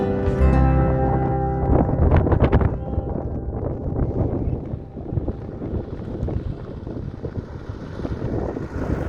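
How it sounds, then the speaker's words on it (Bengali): Strong wind buffets the microphone on a high mountain road near Gurudongmar Lake, roaring steadily and loudly for the whole stretch with gusty surges and no speech. "হাওয়া দাপট বুঝতে পারছেন নিশ্চয়ই।"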